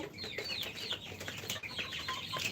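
Young laying hens about 47 days old cluck and chatter in a flock, with overlapping short calls close by over a low, busy background.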